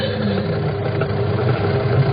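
Production machinery in a meat processing factory gives a loud, steady, droning engine-like roar with a low rumble that holds constant throughout.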